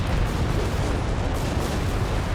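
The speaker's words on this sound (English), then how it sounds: "Got a massive German barrage here" A massive German artillery barrage in the video game Company of Heroes 3: a continuous, loud rumble of overlapping explosions and booms with no pauses.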